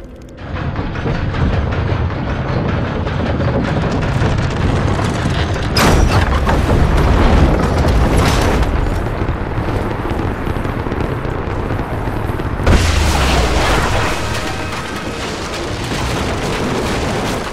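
Weapon firing and a big explosion in the video game Rise of the Tomb Raider: loud mechanical clanking leads into heavy booming blasts and rumbling debris, with a second burst later and no talking.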